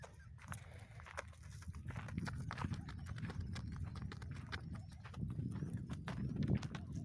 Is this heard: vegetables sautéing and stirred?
no